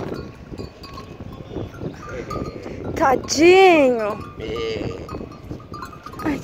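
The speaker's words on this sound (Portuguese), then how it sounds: "os bodes tudo bem, não é tão estranho, mas os bodes no meio do posto." Goats roam a petrol station in Bahia, with one loud wavering bleat up close in the middle, cowbell-like clinks scattered around, and people talking before and after.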